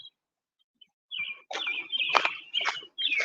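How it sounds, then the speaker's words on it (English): Birds chirp close by in short, bright bursts after a near-silent start, calling in several clustered phrases near the Gulf of Mexico in the American South, with no talking over them. "The hell these birds chirping for?"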